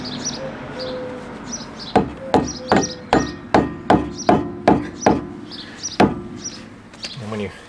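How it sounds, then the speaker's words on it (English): About ten sharp, evenly spaced hammer blows ring out close by as a greased part is driven into place during a front brake disc change on a Lotus Esprit S3, followed by a couple of lighter taps. "when you hammer it in"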